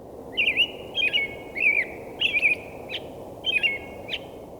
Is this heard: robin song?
yes